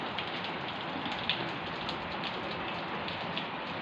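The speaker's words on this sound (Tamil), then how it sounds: "திருப்பி மழை வந்தாச்சு." Steady rain pours down during sunshine, a dense, even hiss of drops with faint pattering, continuous throughout and free of voices.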